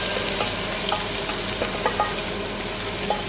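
Pears fry in browned butter in a pan, a steady close hiss and crackle with light stirring taps and clinks throughout and nobody speaking.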